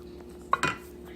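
Chicken salad being mixed in a bowl, a spoon knocking the sides in two quick clinks close by, with a low steady hum underneath.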